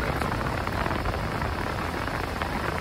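Heavy rain pours steadily during a bass fishing trip, a dense, even hiss that stays loud and unbroken throughout with no voices.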